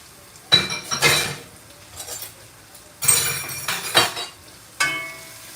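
A spoon clanks and scrapes against a metal pot while stirring canned beef, yellow rice and cherry tomatoes, in several separate bursts of clinking with quiet pauses between, no talking.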